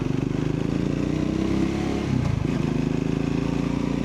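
A Triumph Scrambler 400X motorcycle runs along a road on a morning ride toward London, its engine droning loudly and steadily with a rhythmic pulse and a brief dip as the throttle shifts, plus wind rush and no talk.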